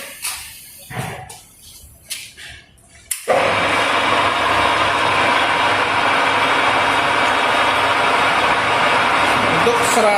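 A lathe spindle is switched on and spins up to about 180 rpm with a steady, loud mechanical whir. Before it starts, a few short clunks and bits of handling are heard.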